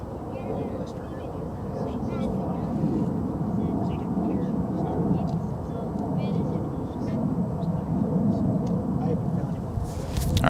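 A jet rolls along taxiway Charlie at Dallas-Fort Worth International Airport, its steady low engine rumble filling the air at a moderate distance while a voice talks over it throughout.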